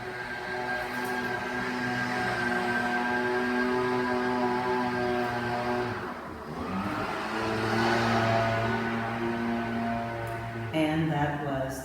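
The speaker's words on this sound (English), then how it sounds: "that was the lawnmower that's cleaning up the outside" A motor drones steadily outside, its tone wavering and dipping midway before rising again, a continuous mechanical hum like a lawnmower passing nearby.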